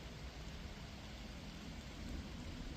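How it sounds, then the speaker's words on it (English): Rain rolling in over a lake during a storm, a faint steady wash of falling drops with a soft low rumble underneath, distant and even throughout, no voices. "so the rain rolled in."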